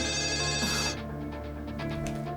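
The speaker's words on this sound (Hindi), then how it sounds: "इस फोन को भी अभी बजना था।" Telephone ringing indoors with a steady tonal electronic ring that continues throughout, clear and close, with a brief rustle partway through.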